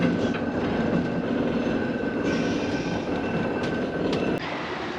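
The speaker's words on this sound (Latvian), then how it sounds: "Funikulors." A funicular railway car in Fribourg, Switzerland rolls along with a continuous rumbling hum and a faint steady whine, a few clacks near the end.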